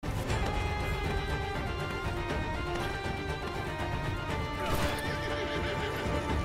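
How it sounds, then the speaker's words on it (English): A horse in the video game Crimson Desert neighs and whinnies while its hooves clip-clop along, a busy, continuous mix of whinnies and hoofbeats layered over game music and ambience, with a louder neigh burst near the end. "Oh man, so you can tame horses as well."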